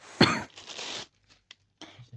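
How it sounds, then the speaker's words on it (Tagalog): A single harsh cough bursts out close up, followed by a rough throat-clearing and a few small breathy sounds, then quiet. "Inuubo ako, ano ba yan?"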